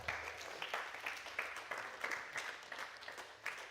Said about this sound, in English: Everybody give John a round of applause.